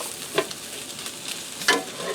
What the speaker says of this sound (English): We're going to stir that in with the sausage and the potatoes.